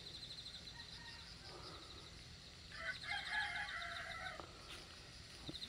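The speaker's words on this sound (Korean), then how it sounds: "저놈의 닭은 아주 내가 이거 찍을 때마다 노래를 부르네, 노래를 불러." A rooster crows once at a distance, a drawn-out call rising over faint outdoor background noise.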